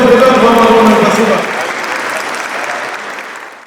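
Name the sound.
audience applause seeing off the participants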